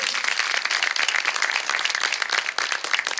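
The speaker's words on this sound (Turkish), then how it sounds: "çok değerli başkanım Sayın Murat İlter'e de bir alkış gönderir misiniz lütfen?" Audience applause at a Turkish televised community gathering, a dense, steady wash of many hands clapping together, loud and close, holding at full strength throughout with no voices on top.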